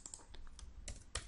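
A computer keyboard is pressed for a Control D shortcut, giving a quick cluster of crisp key clicks heard close and alone.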